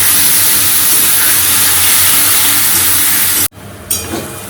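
Spice masala sizzling in a hot pan after three ingredients were fried, a loud continuous hiss that cuts out abruptly near the end, then returns quieter.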